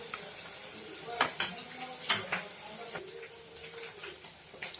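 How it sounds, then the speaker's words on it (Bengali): Ground spices, including half a spoon of coriander powder, being mixed with water for a Bengali chicken kosha, heard as intermittent scraping and clinking of a spoon against a bowl, with a few sharper taps over faint background noise. "এবার এই মশলাগুলোকে আমি জল দিয়ে খুব ভালোভাবে গুলে নেব।"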